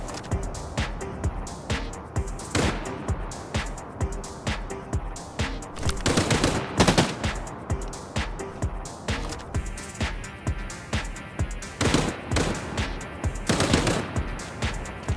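Automatic gunfire in Arena Breakout: Infinite, rapid rhythmic bursts of shots repeating steadily, with a louder, denser flurry midway, fairly close and dominant throughout.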